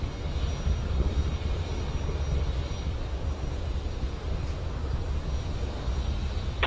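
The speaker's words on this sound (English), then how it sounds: "We've launched from Space Launch Complex 40 at Cape Canaveral" A deep, steady SpaceX rocket engine roar rumbles continuously, broad and distant, as the rocket climbs from Space Launch Complex 40 at Cape Canaveral, with no voices over it.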